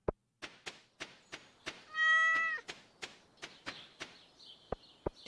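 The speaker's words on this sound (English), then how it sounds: "Make sure to pet the cat." A cat meows once, clear and close, in the farming game Stardew Valley, with soft footstep-like taps and thunks pattering regularly before and after it.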